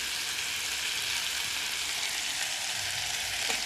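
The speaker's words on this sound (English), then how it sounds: "let's add in our potatoes" Potatoes frying in a sauce for Indomie noodles give a steady, close hiss of sizzling that holds evenly throughout, with a faint stirring scrape near the end.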